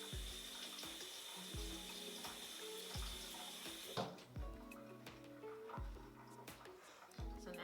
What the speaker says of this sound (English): I am going to rinse my hands and get them back wet.